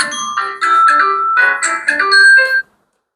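A mobile phone rings with a bright electronic melody tone, several quick note bursts repeating loudly for about two and a half seconds and then stopping, with no voices over it.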